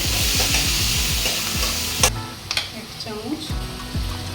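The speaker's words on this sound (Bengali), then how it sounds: "পেঁয়াজটা লালচে করে ভেজে নেব এখন আমি রসুন দিয়ে দেবো" Chopped onion and garlic frying in a pan for a potato mutton curry, a steady close sizzle broken by repeated spatula scrapes and stirring knocks, with no talk over it.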